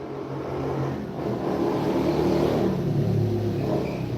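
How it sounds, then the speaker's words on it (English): A motorbike passes by, its engine a steady low rumble and rising growl that swells and holds across the whole stretch, heard alone with no talking over it. "that's a nice motorbike from the sound of it"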